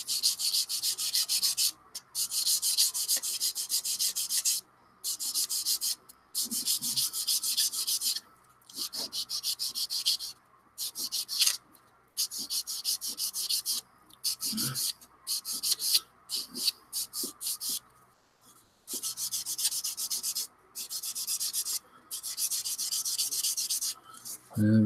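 Dry sanding of plastic model putty on a scale model kit, a close, steady rubbing rasp in repeated strokes and bursts, separated by short pauses.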